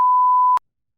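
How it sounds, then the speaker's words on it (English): Censor beep: a single loud, pure steady tone lasting about half a second that cuts off abruptly into silence, alone with no talk. "The beep."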